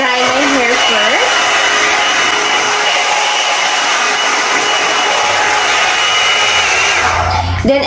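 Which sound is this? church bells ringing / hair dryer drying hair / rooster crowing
hair dryer drying hair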